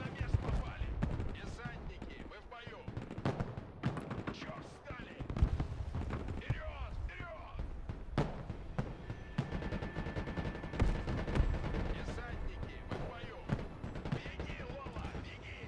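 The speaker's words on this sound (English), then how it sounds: "Mortars are brutal." Mortar blasts and gunfire in the video game Broken Arrow, a dense, continuous barrage of sharp impacts and rattling shots that rises and falls throughout, with voices talking over the battle.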